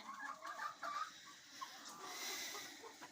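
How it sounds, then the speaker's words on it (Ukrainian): A black hen clucks softly in short, scattered bursts among other quiet farmyard noises, with no talking. "Ось чорна курочка."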